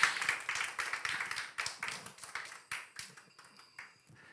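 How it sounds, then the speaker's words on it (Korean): A church congregation claps to welcome a missionary, a faint, uneven burst of hand claps with distinct individual strikes that thin out and taper over a few seconds. "우리 김태훈 선교사님 우리 나오실 때 좀 큰 박수를 좀 환영해 주시겠습니까?"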